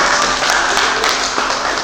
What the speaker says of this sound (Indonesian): Tolong dulu tepuk tangan